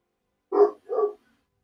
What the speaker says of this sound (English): and the dog setting off the mic